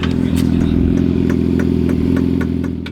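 A Yamaha R6 sport bike engine idles close by, loud and steady, with a continuous rumbling drone and faint rhythmic clatter running through the whole stretch.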